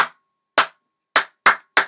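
Five sharp hand claps ring out alone in an uneven rhythm, close and crisp: one, a pause, another, a longer gap, then three in quicker succession.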